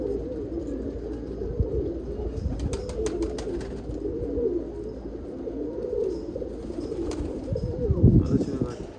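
Pigeons coo in a low, continuous warble close by, joined by brief chirps and soft flutters, with a person talking over them.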